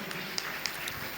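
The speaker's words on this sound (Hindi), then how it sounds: "ताली इतनी कम" An audience applauds at a Jain school event, a dense, even patter of many hands clapping at moderate distance with a few sharper claps standing out.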